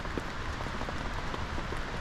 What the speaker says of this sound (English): it's raining now officially